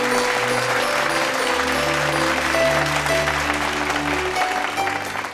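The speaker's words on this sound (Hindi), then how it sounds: "जोरदार तालियां बजाइए।" Villagers applaud together at a gathering honouring a girl named Durga, a steady wash of clapping that continues alongside sustained musical tones underneath, fading slightly at the end.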